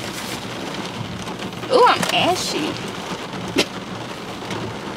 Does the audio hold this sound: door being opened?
no